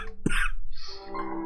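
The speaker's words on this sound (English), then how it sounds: "I have this stupid cough." One short, sharp cough close by, followed by quieter rustling and faint tonal sounds.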